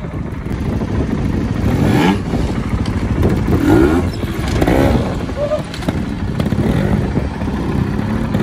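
Trials motorbikes ridden in snow, their engines revving and rising, loud and near throughout, with riders talking and calling out over the engine noise.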